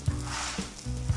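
A radish-stuffed paratha fries on a hot griddle, giving a brief, even sizzling hiss with no voices.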